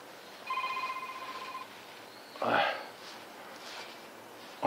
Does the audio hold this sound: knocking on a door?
no